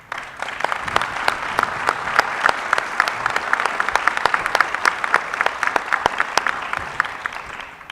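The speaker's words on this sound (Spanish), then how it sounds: "por favor, un aplauso" Audience applause at a national forum on police certification and public security, a loud, dense round of clapping that holds steady for several seconds with sharp individual claps standing out.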